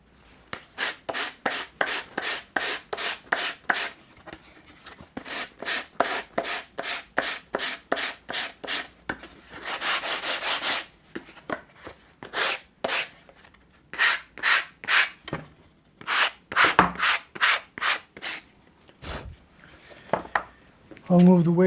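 A box is sanded by hand in long, rhythmic back-and-forth strokes, each a dry rasping scrape. The strokes repeat steadily up close for the whole stretch, with brief pauses between runs.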